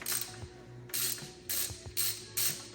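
A flathead screwdriver works the hose clamp on a carburetor fuel line, giving four or five close, dry ratcheting clicks in short regular bursts with quiet gaps between, nearby and alone.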